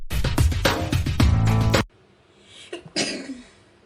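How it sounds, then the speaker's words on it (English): A person gives a sneeze, a burst of strongly voiced vocal noise that cuts off abruptly, followed by a brief quiet breath and a faint sniff nearby. "that's why I'm sneezing so much"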